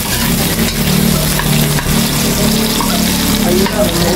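Ginger hits hot oil in a pan and fries with a dense, steady sizzle that runs loud and close for the whole stretch, without pause.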